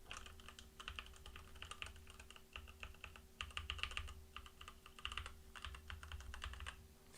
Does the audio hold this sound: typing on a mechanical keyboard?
yes